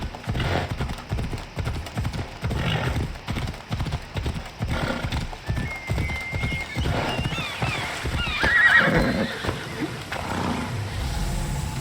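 A horse gallops with rapid, steady hoofbeats in Assassin's Creed Odyssey, The Fate of Atlantis, Elysium, with a whinny and animal roars partway through, under continuous game music and ambience.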